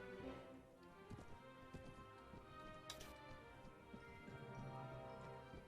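Cavalry horse archers move in the Phantasy Calradia strategy game, a faint, steady patter of clip-clopping hooves under a busy layer of battle ambience and music.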